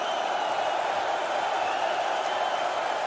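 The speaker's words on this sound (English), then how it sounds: "Crowd getting involved." Darts crowd at the 2023 Poland Darts Masters finals day, a dense continuous roar of cheering and chanting filling the arena at steady loudness.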